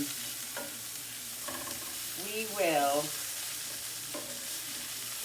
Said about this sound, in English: So I'm just going to add probably about 2 cloves of minced garlic, and then we'll saute